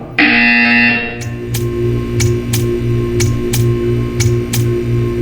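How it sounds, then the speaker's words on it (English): Inside the video game Portal 2, a loud, steady electronic buzzer drones on, overlaid by a hum and a series of evenly spaced ticks. No one speaks. "You will hear a buzzer."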